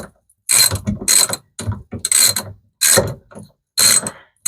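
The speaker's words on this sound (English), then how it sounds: "It is a fairly long screw, so as you see, it's tightening." A long screw is driven into a Samsung washing machine in loud, close ratcheting bursts, about six separate runs with short pauses between them, heard alone without talk.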